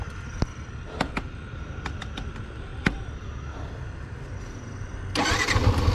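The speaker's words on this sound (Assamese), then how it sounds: "ষ্টাৰ্ট নহয়, আৰু এফআই ইঞ্জিন অলপমান যদি পৰি যায় ষ্টাৰ্ট নহয় বন্ধুসকল" Fuel-injected engine being started: a few sharp clicks and brief cranking attempts, then the engine catches near the end and runs with a louder, rougher rumble close by. No talking.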